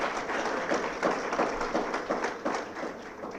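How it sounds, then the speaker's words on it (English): An audience at an annual retreat gives a steady round of applause, dense overlapping clapping heard moderately from within the room, continuing throughout without pause. "Ladies and gentlemen, please, a bigger round of applause, Sheikh."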